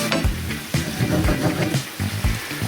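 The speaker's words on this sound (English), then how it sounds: "I'm just going to give it a stir. Mix it around." A Spanish eggs mixture stirred in a hot pan gives a loud close sizzle, with repeated scraping and knocking strokes from the utensil.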